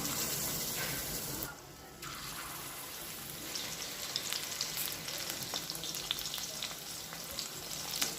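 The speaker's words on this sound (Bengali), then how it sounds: "বাকি চিকেনের টুকরোগুলো আমি সেম প্রসেসে ভেজে নেব।" Chicken pieces fry in hot oil for dry chicken Manchurian, a soft steady sizzle with a brief dip as pieces are moved, then crackling resumes with small pops, no talking.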